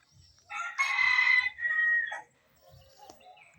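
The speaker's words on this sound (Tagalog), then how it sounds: "Tinatry ko mga idol kung titilaok ba dito sa bundok." A rooster crows once nearby on a mountain, a long ringing call rising and falling, with faint rustling and soft sounds before and after.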